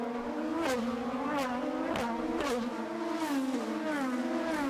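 IndyCar race cars scream along the Toronto street circuit in the 2018 Honda Indy, high-pitched engines rising and falling through gear shifts as several cars pass in close succession, loud and continuous.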